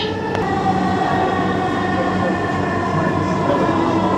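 A Dhaka metro rail train runs toward Agargaon and Mirpur 10, heard from inside as a steady, loud rolling rumble with a sustained electric hum. The noise stays even throughout, with no clear voices over it.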